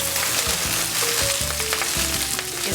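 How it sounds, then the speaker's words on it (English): Spinach sautéing in a little oil in a pan gives a dense, bright sizzle and crackle, close and continuous, with faint clinks and stirring sounds underneath. "I'm going to go straight back into this pan. A little oil. My spinach."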